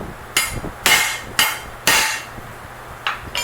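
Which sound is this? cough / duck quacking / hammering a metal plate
hammering a metal plate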